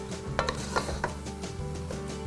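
Food sautéing in butter and olive oil in a pan, a steady close sizzle with a few spoon scrapes and stirring clatters over it, no voices.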